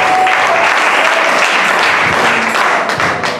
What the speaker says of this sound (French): On acclame le Seigneur pour lui.